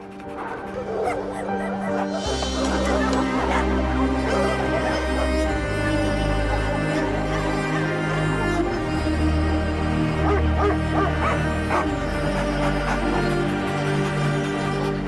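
Stray rescue dogs barking, yipping and whimpering at a shelter, a steady chorus of overlapping barks mixed with music and background noise.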